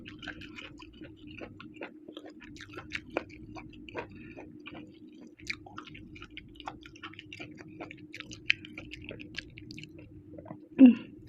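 Someone bites into and chews puffball mushrooms in a spicy Thai curry, with soft, close, wet chewing and small crunchy pops. A sharper bite lands near the end.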